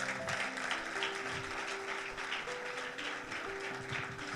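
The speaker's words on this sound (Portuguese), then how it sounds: "Dá uma salva de palmas ao Mestre." A church congregation applauds with sustained, even clapping. The sound is faint and distant, and a soft tonal hum runs underneath.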